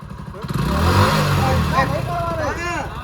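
Motorcycle engine revving as a learner rider releases the clutch, a close rising and falling engine note under lively talk from people nearby.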